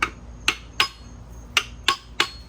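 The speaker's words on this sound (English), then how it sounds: "just light taps, because these have dowels in them" Light hammer taps loosening a part on a junkyard Honda Integra B18 engine, six sharp close metallic knocks in an uneven rhythm with brief pauses between them.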